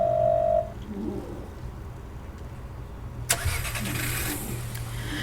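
Car engine starting outside a door in the video game Firework: a short starter crank followed by the engine catching and idling at moderate level, after a brief tone and bird calls.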